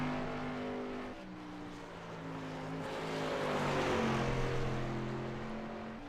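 A modified race car circles the track on a lap, its engine droning with shifting pitch as it accelerates and eases, heard steadily at a moderate distance with broad roadway noise.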